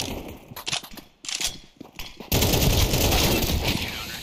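Short SMG bursts in Counter-Strike 2 give way to one long, continuous, dense stream of rapid fire, loud and close.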